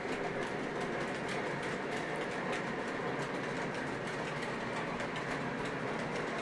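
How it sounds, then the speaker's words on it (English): A Lionel Santa Fe War Bonnet AC6000 model diesel locomotive runs steadily, giving a continuous loud rumble and whir with faint rhythmic clicking from the track and no talk. "I got the Santa Fe War Bonnet AC6000 from Lionel Run. One of my favorite diesels ever made."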